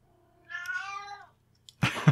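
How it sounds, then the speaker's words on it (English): A single drawn-out cat meow rises and falls, close and clear, followed by a brief rustle or thump. "Hello, noisy cat."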